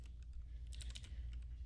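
Quick, light keystrokes on a computer keyboard while a web address is entered into a browser, a short burst of close, quiet taps over a low background hum.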